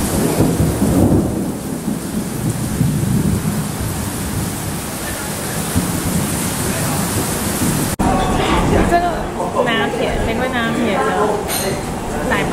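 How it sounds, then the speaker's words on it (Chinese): Heavy rain with thunder pours outside a café, a loud, continuous wash of noise that fills the first part, then voices talk indoors over the ongoing downpour. "因为外面太暗了，下雨"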